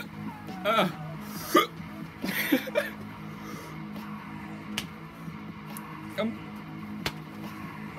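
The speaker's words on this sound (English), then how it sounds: "The hiccups." Hiccups from a person who has just eaten a Carolina Reaper pepper, several sharp gulping catches spaced irregularly over a few seconds, close to the microphone, with a quiet room background.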